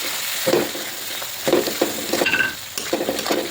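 Baby potatoes coated with garam masala and salt are stir-fried for aloo dum, a spatula scraping and turning them in a sizzling pan in several bursts, close and fairly loud, with no one speaking.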